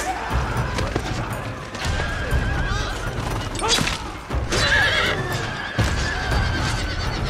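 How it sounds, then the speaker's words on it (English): Several horses neigh and whinny in quick succession amid clattering hooves and battle clashes in Shogun 2: Total War, loud and close, with brief speech underneath. "I hear a lot of horses going down."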